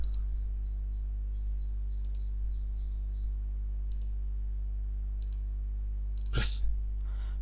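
A computer mouse clicks a few times at a steady pace, each click sharp and close, while modelling in Creo Parametric CAD software over a low constant electrical hum, with one brief louder rising sweep near the end.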